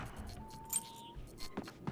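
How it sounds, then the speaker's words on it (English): Keys jangling in the video game Alan Wake, a few short metallic clinks and rattles at low level against a quiet ambient background. "Keys."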